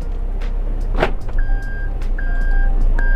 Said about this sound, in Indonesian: maka fitur auto lock akan berfungsi dan mengunci door lock secara otomatis